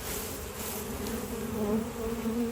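Honey bees buzz steadily around an opened hive during an inspection, a dense, continuous hum that stays close and fairly loud throughout with no talking.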